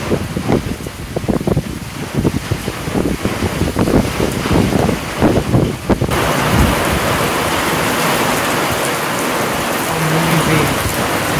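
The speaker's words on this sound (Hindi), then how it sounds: "एकदम बारिश हो रहा है, पूरा हवा दे रहा है" Heavy rain pours down in a hill village in Kalimpong, with gusting wind buffeting the microphone and a dense, loud roar that thickens into a steady downpour partway through.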